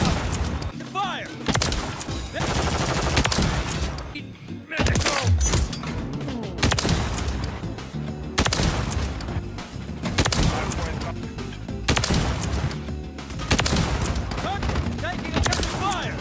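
XRK Stalker sniper rifle fire in the video game Modern Warfare 3 cracks in repeated loud, close shots separated by short gaps, with sharp bursts and echoing tails throughout.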